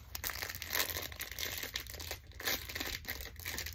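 Continuous crinkling and tearing of plastic packaging on a s'more squishy toy up close, rustling steadily for a few seconds with no talking.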